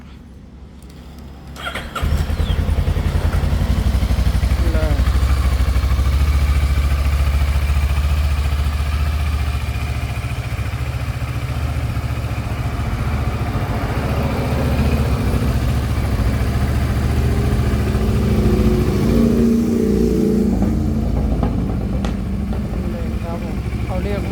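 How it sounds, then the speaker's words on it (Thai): Modified 2011 Kawasaki Versys 650 motorcycle started and left idling close by, a loud steady low engine rumble that runs unbroken for over twenty seconds. "มาฟังเสียงเครื่องกันนะครับ"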